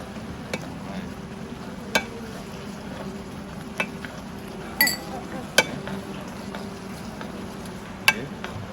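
Pasta with cheese and oregano stirred in a pan for a kids' dish, giving scattered sharp clinks and scrapes of the utensil at irregular intervals over a steady low hiss, fairly faint and without talk.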